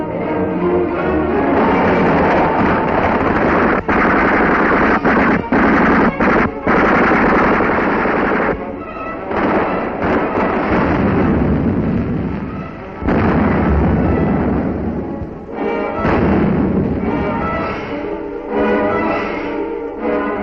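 Wartime gunfire in a 1943 Soviet newsreel of a river crossing under enemy fire: loud, dense machine-gun bursts and artillery blasts roar almost without a break throughout.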